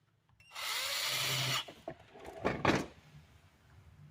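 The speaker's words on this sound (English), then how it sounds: "Cheap little drill. Works pretty good for what it is." A cheap $19 Harbor Freight drill whirs up loudly for about a second, then stops, followed by a few knocks and rattles of handling nearby.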